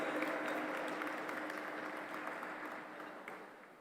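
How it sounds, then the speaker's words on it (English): A large audience at the 2023 G20 Interfaith Summit applauds in a soft, distant-sounding wash that fades gradually over about four seconds. "A huge round of applause for Honorable W. Cole Durham Jr."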